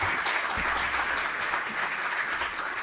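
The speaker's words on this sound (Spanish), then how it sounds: "Pues vamos a darles un aplauso a nuestros" A forum audience claps for the presenting speakers, a steady, full round of applause heard without any voices.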